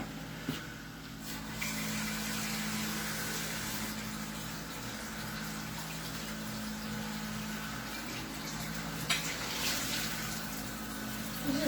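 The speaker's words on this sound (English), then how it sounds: "I'm just rinsing the bowl that I'm going to put the crab legs in" Tap water runs steadily into a kitchen bowl as it is rinsed before crab legs go in, a continuous rushing flow with a low hum underneath and a few faint clinks.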